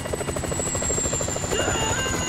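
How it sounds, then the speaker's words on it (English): A helicopter in the video game GTA V flies close overhead. Its rotor throbs in a steady rhythm under a high turbine whine, loud and continuous, with no speech. "Always hated that chopper."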